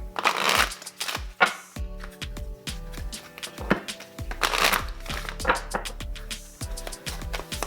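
Tarot cards being shuffled and drawn from several decks by hand, with soft riffling swishes and crisp taps as cards slap together and are pulled out, close and fairly quiet.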